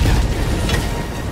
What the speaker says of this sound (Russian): Сейчас взрыв будет.